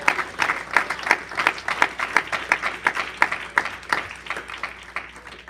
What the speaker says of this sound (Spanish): Dale un aplauso al Señor, hermano.